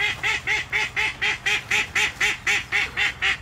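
Ducks quack over and over in a steady, even rhythm, loud and close, with about a dozen evenly spaced calls and no talking.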